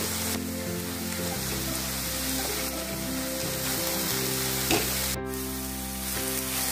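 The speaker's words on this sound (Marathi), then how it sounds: "अंडी पण छान फ्राय होतात" Eggs frying in a spicy masala coating over high gas flame, a loud continuous close sizzle with faint stirring scrapes and a short click.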